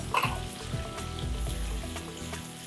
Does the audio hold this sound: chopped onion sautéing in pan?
yes